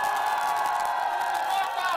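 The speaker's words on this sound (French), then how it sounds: "Approuvé par les acclamations de la population présente pour son accueil" A crowd in the Democratic Republic of the Congo cheers and acclaims a national deputy on her arrival, a loud, sustained wall of voices with held tones and whoops that never lets up.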